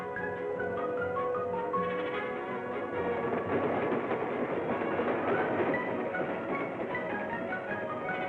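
A train runs along a railway in the Belgian Congo, in Katanga, where diesel-electric locomotives have replaced steam, giving a steady rolling rumble and clatter throughout that sits under a continuous bed of orchestral music.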